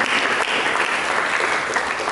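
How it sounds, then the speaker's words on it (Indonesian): A loud, dense round of applause fills a church service, steady sustained clapping from a large congregation praising Jesus Christ, with no break in the sound. "Berikan tepuk tangan bagi Yesus Kristus."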